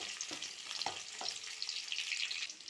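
Shallots, garlic cloves and curry leaves sauté in hot oil in a pan, a steady close sizzle broken by a few soft stirring scrapes and clinks, with no voices.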